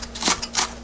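Chives being sliced into small pieces with a knife for a cockle bibimbap, two or three quick crisp cutting strokes, close and fairly loud, with no talking.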